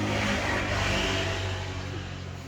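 A trail motorcycle engine runs while being prepared for an off-road trail ride, giving a steady, loud, buzzing drone up close that eases slightly toward the end.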